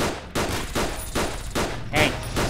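Rapid bursts of automatic gunfire from the game Fallout: New Vegas, loud and close, coming in repeated volleys roughly every half second with short gaps between them.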